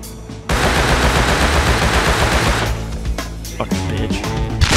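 Gunshots in the survival game Rust erupt suddenly into a loud, sustained volley of rapid fire, thinning into a few separate sharp cracks toward the end.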